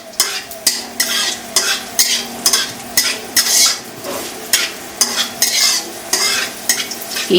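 Nigella and cumin seeds tempering in hot oil give a close sizzle. Rapid rhythmic scraping bursts from a spoon stirring in the pan repeat steadily throughout.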